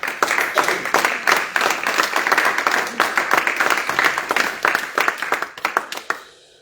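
A church congregation on Réunion claps together during a teaching service, dense rhythmic applause that holds steady and then fades out near the end.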